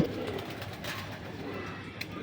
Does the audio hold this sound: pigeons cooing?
yes